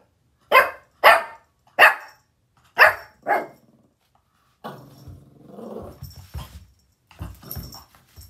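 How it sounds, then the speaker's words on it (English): A puppy barks five times in sharp, evenly spaced bursts, then shifts into a lower, rougher growling and grumbling with a few yips, close and loud with no talking. "I hope you enjoyed our little video of Gizmo from when he was a puppy to where he is today"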